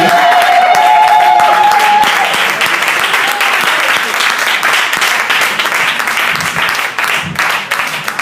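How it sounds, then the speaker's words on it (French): A church congregation claps for the Lord in a loud, sustained round of applause that fills the hall, with voices and cheers mixed in underneath. "Si quelqu'un peut vraiment battre ses mains pour le Seigneur."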